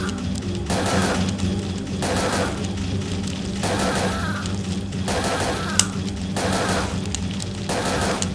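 Repeated gunfire bursts from the PS1 video game Parasite Eve 2, loud pulses recurring roughly every second or so over steady game music and background noise, with flying creatures attacking.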